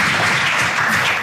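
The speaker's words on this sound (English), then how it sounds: "Big hand of applause." A studio audience on a comedy talk show claps in dense, steady applause that fills the whole short stretch at close, even loudness.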